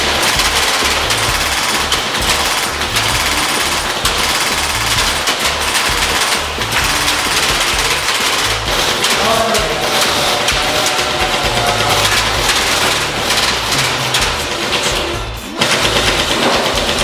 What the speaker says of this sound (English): For the treasonous death of Ichabod Spring, you are sentenced to death by Airsoft.